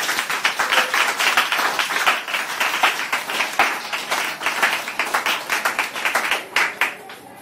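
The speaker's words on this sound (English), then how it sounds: "Give the Lord a mighty clap." A church congregation claps in a fast, steady rhythm, many hands striking together loudly and evenly for several seconds before easing off at the end.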